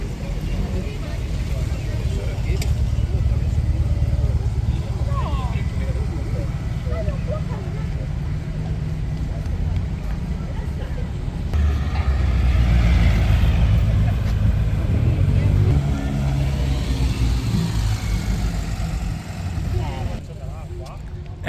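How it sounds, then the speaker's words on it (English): Support cars driving past at the 1000 Miglia starting grid, a steady engine and traffic rumble that swells louder midway, with people talking over it. "Support cars."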